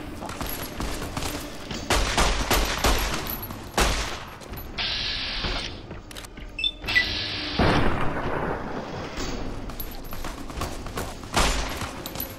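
Fallout: New Vegas gunfight, with sharp shots and volleys cracking out at irregular intervals, some booming and loud, others quicker and closer together, under a rumbling game backdrop.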